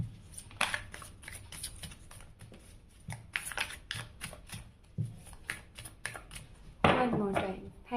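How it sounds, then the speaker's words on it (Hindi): Tarot cards are shuffled by hand in quick rustling, riffling bursts, with a louder flurry near the end, while someone talks quietly in between. "वन मोर टाइम मैं कार्ड को शफल कर लेती हूँ"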